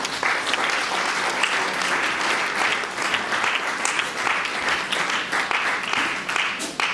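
A wedding congregation at a nuptial blessing in Sarcelles breaks into sustained, dense applause that stays loud and even for several seconds, filling the room with no voice rising above it.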